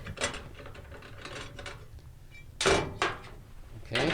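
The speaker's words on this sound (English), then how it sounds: "if you take these two screws out, sometimes it's only one screw, but regardless, just remove this overflow" Screws being backed out of a bathtub overflow cover, with small metallic ratcheting and scraping clicks coming in short bursts up close, louder toward the end.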